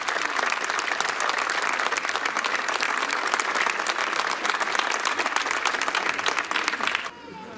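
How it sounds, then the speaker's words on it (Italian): An audience applauds warmly as a speaker is welcomed onto the stage at a local election event, the dense, steady clapping filling the room for about seven seconds before it suddenly drops away. "è invitato a salire sul palco, accolto da un caloroso applauso"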